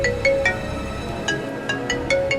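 A mobile phone ringtone signals an incoming call, its bright repeating chime looping steadily in short melodic phrases at moderate loudness over faint background noise.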